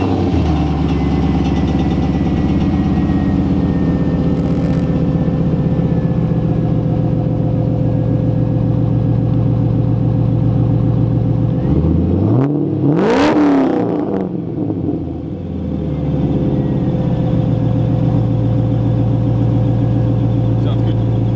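A rebuilt Mazda RX-7 FD rotary engine with a redone exhaust idles steadily up close, then blips into one sharp rev around the middle before settling back to a smooth idle.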